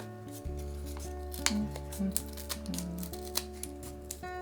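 Sharp snipping clicks from scissors cutting through thin wooden popsicle sticks, several cuts spaced irregularly over a steady low hum.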